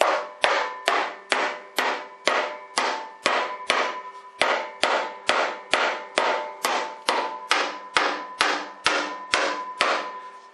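Steady, evenly spaced hammer-and-dolly blows ring out on a car quarter panel, about two per second, sharp clanging strikes continuing without pause.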